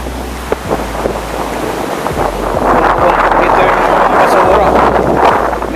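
Storm waves and surf churn at Manila Bay, a continuous loud wash with heavy wind buffeting the microphone, swelling stronger in the second half.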